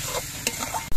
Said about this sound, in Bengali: পেঁয়াজ আর টমেটোগুলো ভাজা হয়ে নরম হয়ে দেখুন গলে গেছে।